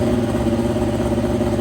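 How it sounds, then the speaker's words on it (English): The engine of a land speed race car runs steadily at a close, even, rumbling idle, with no other sound over it. "I got the engine to start and run."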